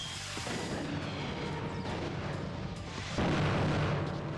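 Pod explosion in Custom Robo, a video game: a continuous roaring blast with a heavy rumble that swells, then a fresh louder burst about three seconds in, with no talk.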